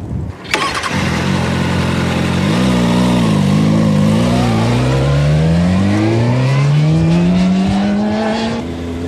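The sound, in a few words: motorcycle ride with counter-steering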